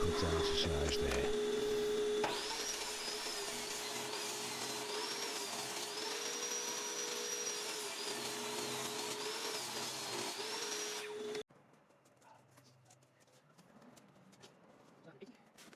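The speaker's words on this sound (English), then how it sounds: "quick bit of sanding, smooth it all down" Power sanding a wooden mirror frame with 80 grit sandpaper: a loud, steady whine and grinding that runs for about nine seconds and then cuts off, leaving quieter room noise.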